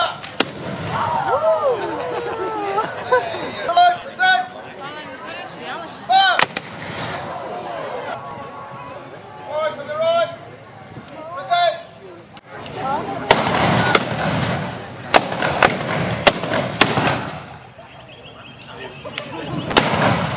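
Muzzleloading firearms fired by club shooters at an outdoor festival, with several sharp, loud reports spaced irregularly, including a tight cluster near the end, amid crowd chatter and voices between shots.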